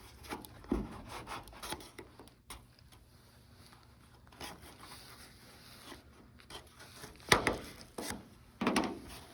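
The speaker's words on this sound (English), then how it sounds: "I'm just gonna use this card to kind of pry under and lift this." A card pried under a truck cab light lens on an F800, giving faint, irregular scraping and rubbing with a few sharper plastic clicks, quiet and close.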